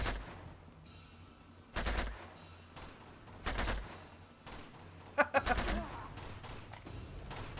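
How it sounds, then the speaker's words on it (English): Gunfire in Uncharted 2 as snipers are shot: several loud, broadband bursts of shots at roughly regular intervals, one sharper crack near the end, over a low rumbling game backdrop. "Oh, now you're gonna shoot the snipers."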